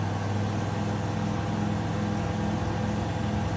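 A seaplane engine roars at full throttle in Microsoft Flight Simulator 2020, a steady droning hum with strong low rumble that holds constant and loud throughout with no talk.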